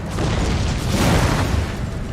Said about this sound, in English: Looks like standard mortar shot coming in here.